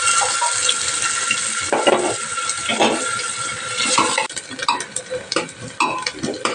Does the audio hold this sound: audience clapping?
no